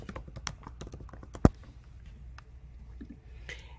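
Quick, irregular clicks of fingers typing on a computer keyboard, close and fairly soft, with one sharper louder keystroke midway and quiet room noise around them.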